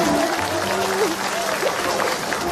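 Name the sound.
audience applause for the singer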